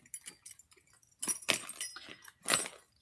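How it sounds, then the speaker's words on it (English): A handful of metal keys jangles close up in several bursts, light clinks at first, then two louder rattling shakes, with quiet gaps between and no talking. "Keys."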